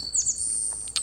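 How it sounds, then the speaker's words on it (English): High, bright bird chirps in a video game, in quick succession, a few short tweets and a sliding call, fairly close over quiet background. "you can hear the birds chirping."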